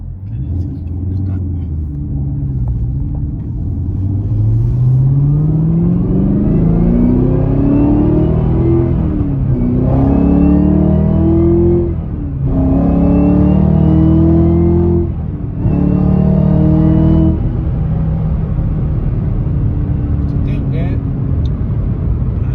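Stock Chevrolet Camaro ZL1 1LE with a six-speed manual, accelerating hard in first gear. The engine note climbs steeply, is cut by short gear-shift gaps, then pulls up again loud and close before settling back to a lower rumble.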